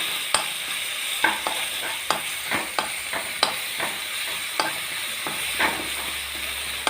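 Crushed garlic frying in oil for lemon pickle, a continuous close sizzle punctuated by repeated scraping taps of a spoon stirring against the pan.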